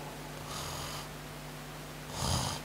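A voice imitating the rattling, gurgling snore of a dying person: two brief hoarse rasping bursts separated by a pause, close and moderately loud over a steady low hum.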